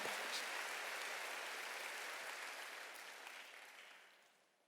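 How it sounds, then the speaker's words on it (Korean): A church congregation at a Wednesday worship service applauds together, a broad, hissing wash of many clapping hands heard at some distance, steady at first and then fading away over the last couple of seconds. "박수로 맞아주세요"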